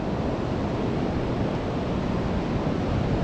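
Steady wash of waves and wind on a North Yorkshire beach at Whitby, a dense continuous roar close to the microphone with wind buffeting, no voices.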